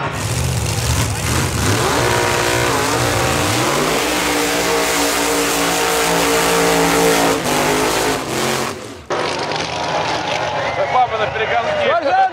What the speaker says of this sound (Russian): А сейчас выезжает Top Fuel байк, судя по всему.